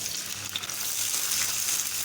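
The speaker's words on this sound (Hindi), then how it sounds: "हमने एक फ्री पैन में अपना घी गर्म कर लिया है। अब हम इसमें प्याज डालेंगे।" Onions fry in hot ghee in a pan, giving a continuous, fairly soft sizzle with no talking over it.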